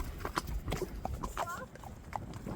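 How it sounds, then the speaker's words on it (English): Hooves of a horse ridden at a rising trot clip-clop in a steady rhythm, close and moderately loud, with a person talking over them and brief bird-like chirps. "Go on, do your rising trot."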